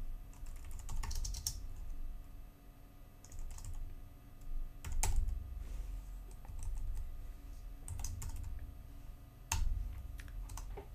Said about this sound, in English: now we can finish typing this line of code